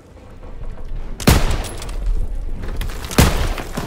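Heavy gunfire from the Call of Duty WW2 battlefield rings out, with two loud booming shots and rolling bursts of rapid fire in between under a constant din of combat.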